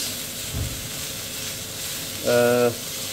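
Lean 5% fat beef mince fries in a dry pan with no added oil, giving a steady soft sizzle and hiss broken by a brief scrape, with a short tonal sound near the end.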